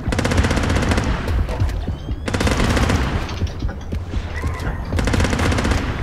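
Rapid automatic bursts from a beer gun in a video game fire in three long volleys, loud and close, with a dense rattling rhythm and brief gaps between runs.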